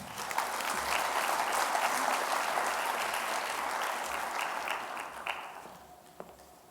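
A conference audience breaks into steady applause as a keynote speaker is welcomed, with dense clapping holding strong before thinning out and fading near the end.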